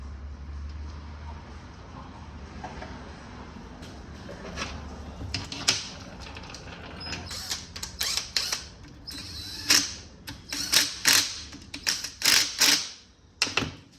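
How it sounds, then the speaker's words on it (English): Timing chain tensioner being fitted on a Hyundai Sonata 2.4L engine, a run of sharp metallic clicks and ratchet-like taps close by, sparse at first, then faster and louder. "I'm gonna install this tensioner right here."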